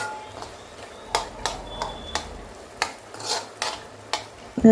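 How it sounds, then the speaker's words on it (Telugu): Goat brain frying in oil, with a soft continuous sizzle broken by repeated sharp clacks of a spatula stirring and scraping the pan at an uneven rhythm, close and fairly loud. "ఈ విధంగా ఫ్రై చేసుకోవాలి."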